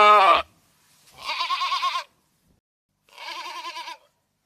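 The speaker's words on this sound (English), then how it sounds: "The sheep says ba ba." A sheep bleats three times, close and loud, with short pauses of silence between the calls in an animal sounds game for children.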